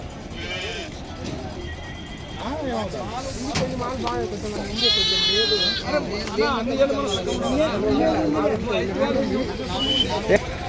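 A flock of sheep bleats repeatedly at a livestock market, many overlapping calls near and far, with crowd chatter and people talking underneath throughout.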